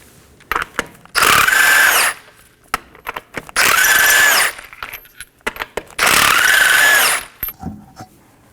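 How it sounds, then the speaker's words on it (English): A power tool with a 21mm socket removes the front wheel of a 2015-2023 Nissan Maxima, giving three loud, close bursts of whirring separated by clanks and handling sounds. "Now let's go ahead and remove our front wheel using a 21mm socket."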